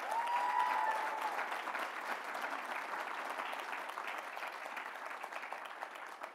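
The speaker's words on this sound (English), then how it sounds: "Let's give him another round of applause." Audience applause at an engineering awards dinner, a sustained wash of many hands clapping in a room, steady and moderately loud before tapering slightly toward the end.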